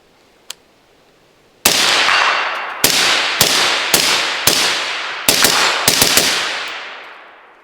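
Ten rounds of 5.56 fire through a Dead Air Sandman S suppressor, sharp loud cracks fired one at a time in an uneven series, each with a short decaying tail, after a faint click and a brief quiet stretch.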